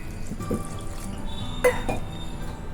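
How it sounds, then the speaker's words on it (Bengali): Half a cup of water is poured into a flour batter for a puffed-rice recipe, with a short splash and trickle near the middle over quiet kitchen background, no talking. "আমি এখানে হাফ কাপ জল দিলাম প্রথমে"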